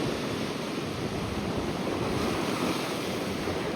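Ocean waves breaking on a shore at low tide at the Boat Harbour Reserve, heard as a continuous loud roar of surf mixed with wind buffeting the microphone.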